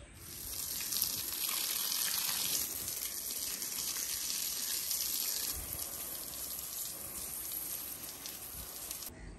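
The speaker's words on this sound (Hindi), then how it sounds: "अब दोबारा से पानी लगाते हैं यहाँ से" Water streaming from a pipe onto garden plants at a new home, a steady broadband hiss and splash that runs continuously, louder in the first few seconds and then slightly softer, with no talking.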